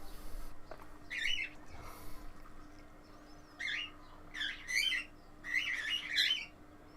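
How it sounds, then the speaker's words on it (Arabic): Several birds give harsh, squawking calls in short bursts, fairly close and loud over a quiet background hum, the calls coming in irregular clusters that grow busier toward the end. "الطيور مزعجة للغاية."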